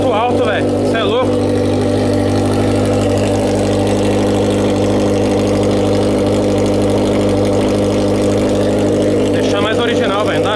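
Yamaha XJ6 motorcycle engine idling in neutral with a loud, steady mid-low drone and a strong harmonic hum throughout, while people talk over it near the start and end.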